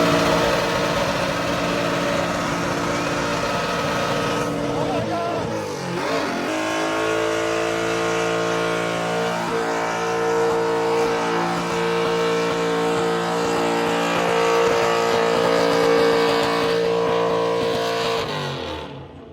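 A souped-up V8 Lexus IS drift car revs hard through a long, loud burnout, its engine screaming and holding high sustained revs before dropping off near the end.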